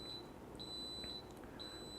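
Tiger 3-liter electric water boiler sounding its done signal: a series of short, high electronic beeps repeating at a steady rhythm, clear and close over a constant low hum.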